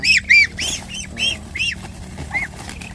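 Several ducks quack in quick succession, loud and close, with calls tapering off toward the end.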